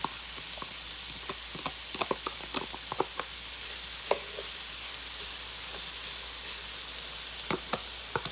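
Green pepper sizzling as it cooks down in a pan for lasagna, a steady frying hiss with scattered small pops and crackles throughout.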